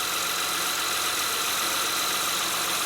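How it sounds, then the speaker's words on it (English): A 2006 Honda Odyssey engine idling with a battery warning light fault, giving a steady, continuous running hum and hiss at close range, unchanging throughout and without voices. "So the engine is running."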